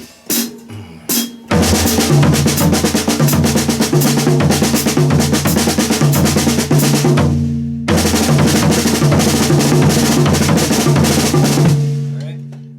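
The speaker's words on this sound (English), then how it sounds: "Here's that paradiddle again, now orchestrated through the drum set." Rapid alternating paradiddle drum strokes move around a full kit in a steady flowing pattern, loud and close, with a short pause before the pattern resumes.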